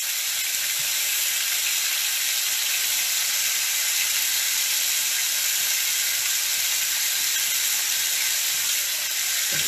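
Lamb chops sear in a hot pot with a steady, loud, continuous sizzle and hiss that holds unbroken throughout, with no talking over it.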